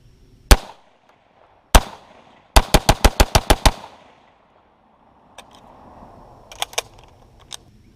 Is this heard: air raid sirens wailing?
no